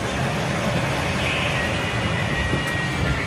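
A meter-gauge-era passenger train running out of Trichy on a rainy day, giving a steady, loud rumble of wheels and carriage noise that fills the whole stretch without a break.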